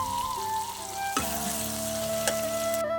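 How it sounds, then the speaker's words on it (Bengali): Ground spices such as coriander-cumin powder and turmeric sizzle in a pan for a chhana curry, with a continuous close fry and a few clattering stirs, alone without speech. "দিয়ে আবারও আমি ভালো করে নেড়ে ভেজে নেব"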